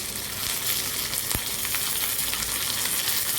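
Curry leaves hit hot oil for a coconut chutney tempering, giving a continuous crackling sizzle close by, with one sharp pop early on and no talk.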